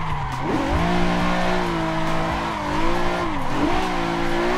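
A simulated car drifts in Assetto Corsa on a Logitech G29/G920 wheel, its engine revving loudly and steadily while tires squeal continuously, with pitch dips as the throttle shifts.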